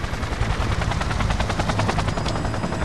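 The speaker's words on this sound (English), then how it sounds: "Get to the chopper." A helicopter in the Cyberpunk 2077 video game thunders loud and close with steady rotor chop, mixed with bursts of gunfire.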